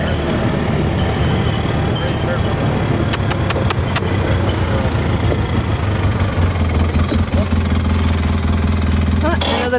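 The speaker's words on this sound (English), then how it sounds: "They know the sound of the engine." A farm vehicle engine idles steadily and loudly throughout, a low rumbling drone close by, with brief clicks and knocks over it and no clear talk.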